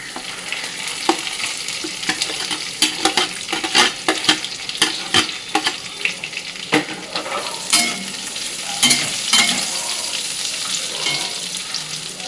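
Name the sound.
stir-frying vegetables for fried rice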